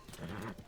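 A horse in Zelda: Tears of the Kingdom gallops at full speed, its hooves giving a brief soft clip-clop flurry close by.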